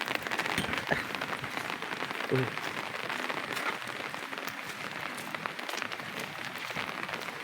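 Steady rain patters on a surface nearby, a dense continuous hiss with scattered drops and no voices.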